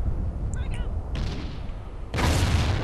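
Grenade blast and gunfire in Call of Duty: Ghosts, a muffled burst of firing followed by a loud, sustained explosion-like rumble that swells near the end, with no talk over it.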